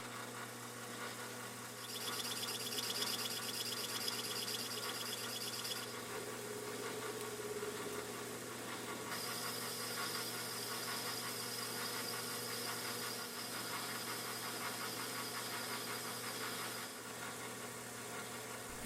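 A metal lathe with an inverted three-jaw chuck facing a steel casting, a steady mechanical hum and whine with a faint cutting hiss that swells and eases in stretches, fairly quiet and continuous, with no voices.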